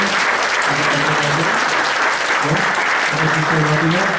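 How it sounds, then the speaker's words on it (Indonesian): Loud, dense applause fills a room as an audience claps steadily for several seconds, the sound close and sustained with a few voices faintly mixed in. "kita berikan aplaus, kita ucapkan terima kasih"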